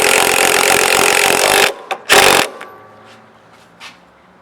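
An impact wrench or drill tightening the strut rod nut on a 2015 Mustang during spring removal, a loud harsh whirring burst followed by a second short burst, then quiet clinks of metal.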